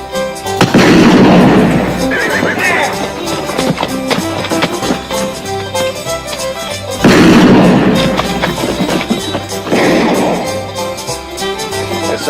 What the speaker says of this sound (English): There's somebody shooting.